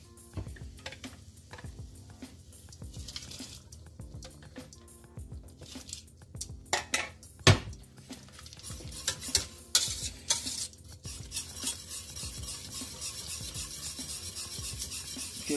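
Thick vegan pasta sauce being stirred in a pan, with repeated scraping and squishing strokes plus a light sizzle underneath, growing busier and louder toward the end.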